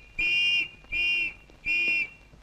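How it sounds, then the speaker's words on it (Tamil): Three short, loud, steady whistle blasts in a police station setting, evenly spaced with brief gaps, each with a shrill sustained tone. "நீ யாரு இங்க வந்து விசில் ஊதிக்கிட்டு இருக்க?"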